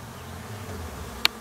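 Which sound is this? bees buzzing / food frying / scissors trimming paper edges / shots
bees buzzing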